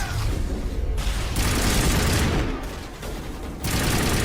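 Sustained assault rifle gunfire in the video game Mass Effect Legendary Edition, dense continuous bursts with brief pauses, loud and close.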